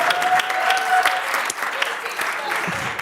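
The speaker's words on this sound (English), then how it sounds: "give that a round of applause" An audience at a school auction breaks into applause, a dense roomful of claps that stays even for a few seconds, with faint voices and a hint of a tone underneath.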